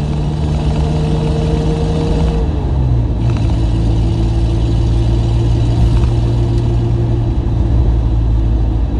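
Car engine idling and running with a holed exhaust, a loud, steady, close rumble that drones continuously and dips slightly in pitch partway through.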